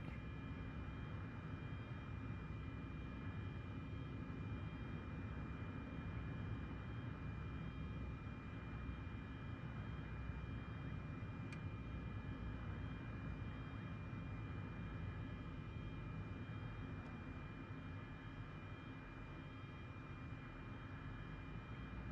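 Steady, continuous engine and propeller drone of a Cessna Caravan accelerating on the ground in Microsoft Flight Simulator 2024, a constant droning hum with a faint whine, unchanging throughout.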